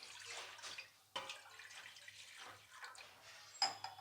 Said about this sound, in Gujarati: તેમાં 2 ગ્લાસ પાણી નાખી દેવું